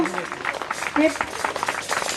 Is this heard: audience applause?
yes